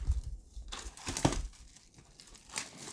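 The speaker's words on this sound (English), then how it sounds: "So let's open the clear wrapper around it." Clear plastic wrapping around a Dreamcatcher fan club fan kit is pulled open by hand, producing close, crisp crinkling and crackling in irregular bursts over a few seconds, with one sharper snap partway through.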